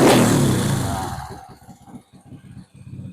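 A custom Honda Win 135cc scrambler motorcycle starts with a loud burst that fades over about a second, then settles into a low, rhythmic, uneven idle thump close by.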